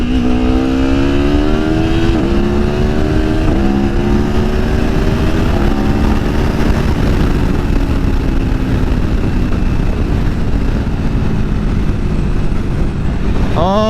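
2019 Aprilia Tuono Factory motorcycle with a smooth quick shifter, accelerating hard: a loud, close engine howl climbing through several rapid gear changes, each shift cutting the pitch briefly before it rises again.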